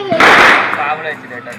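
A Diwali firecracker at army quarters bursts with one sharp, loud pop, followed by voices talking nearby.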